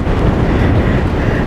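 Steady, loud wind buffeting the microphone during a thunderstorm by the water's edge, a constant low roar with no pauses and no voices.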